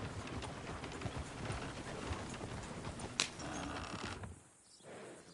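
Horses' hooves clip-clop in a video game over a busy background of rustling and mechanical clatter, with a sharp click partway through before the mix briefly thins out.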